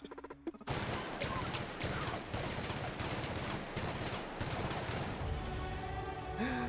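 Rapid bursts of weapon fire with recoil in the video game The Outer Worlds, loud and dense, beginning after a brief quiet start and continuing almost unbroken with short gaps between volleys.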